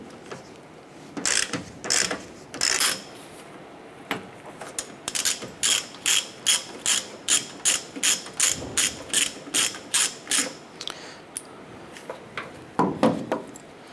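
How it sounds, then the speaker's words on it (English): A ratchet fitted with a T45 socket clicks in quick, steady bursts while loosening the bolt that holds the tailgate cable on a 2011-2018 Ram 1500, loud and close with brief pauses between strokes. "Using your T45, go ahead and disconnect the bolt here that's holding the other end of our tailgate cable."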